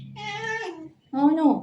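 A pet male cat meows twice at close range, a drawn-out wavering cry, a short pause, then a second rising and falling call, with a person speaking briefly over it.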